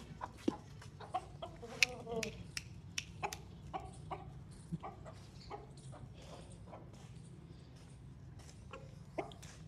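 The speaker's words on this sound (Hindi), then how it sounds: "ये रहा मुर्गा हमारा असील मुर्गो" An Aseel rooster, freshly let out in the morning, gives repeated soft clucks and short calls in a scattered rhythm, fairly close but quiet over faint outdoor background.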